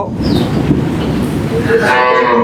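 A Jersey dairy cow lows at a cattle market, one drawn-out call rising near the end over steady crowd noise and background talk.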